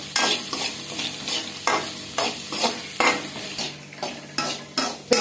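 Onions with a little turmeric fry in oil for aval upma while a spoon stirs them, producing a continuous close sizzle broken by repeated scraping strokes and light clinks against the pan, with no voices.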